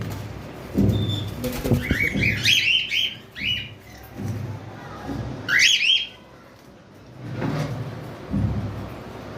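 Close cockatiels squawking in short harsh bursts, with wing flaps and rustling in between, several outbursts spread across the stretch.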